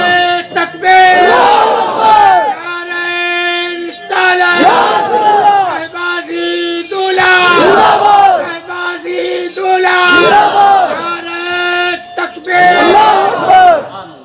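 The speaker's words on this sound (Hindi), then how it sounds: "तकबीर," Large crowd at a religious speech chants takbir, Allahu Akbar, in loud unison, repeated five times in a steady call-and-response rhythm with a leading voice between bursts.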